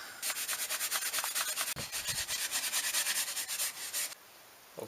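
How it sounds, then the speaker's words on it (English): A scouring pad scrubs old gasket residue off the rear differential housing of a Ford F-150, giving steady, rapid back-and-forth rasping strokes close up for about four seconds before stopping. "I'm gonna use this pad just to scratch a little bit around"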